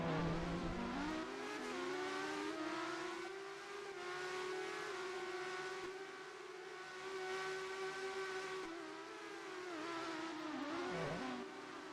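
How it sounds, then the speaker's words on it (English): A motorsport race car engine in a racing game drones with a high, sustained tone. The pitch rises and falls through gear changes, and the engine slows as it pulls into the pits. "So into the pits comes the motorsport car."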